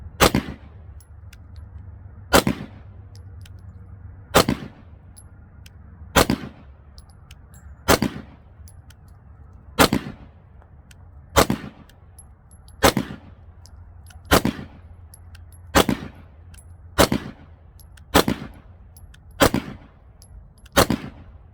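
A VP9 pistol firing NATO ammunition at a shooting range: about fourteen loud, sharp shots, at first spaced roughly two seconds apart, then coming quicker toward the end, each with a short ringing tail and no talking.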